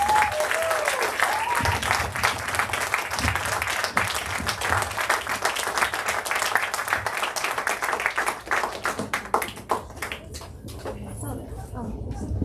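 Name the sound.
audience clapping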